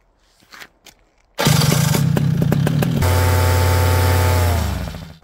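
A paramotor engine spinning a Ukrainian propeller on a thrust table starts after a few faint knocks, then roars loudly and steadily up close, rising to a stronger, higher drone at full throttle before cutting off.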